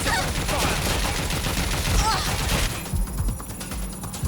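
Dense suppressive gunfire in a video game, a steady rapid rattle of shots that runs loud and continuous before easing off near the end.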